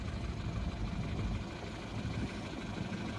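Towing vehicle engine idling steadily at a low, even rumble throughout, fairly quiet and with no talk over it.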